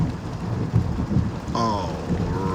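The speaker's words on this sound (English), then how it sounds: "5 minutes of rain falling in Texas" Heavy Texas rain hammers down steadily, with a deep rumble of thunder rolling through and a sharper crack partway in, all loud and close with no talking.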